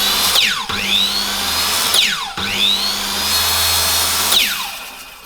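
Power tool cutting guide lines in timber for a seated dovetail joint, loud and close, with two bursts that spin up to a whine, run steadily, then wind down.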